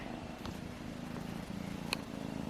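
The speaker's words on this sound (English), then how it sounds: "as soon as he comes near a person, he just starts instantly purring" A Ragdoll kitten purrs close up in a low, steady rumble that pulses in a regular rhythm, quiet and continuous, with a faint click partway through.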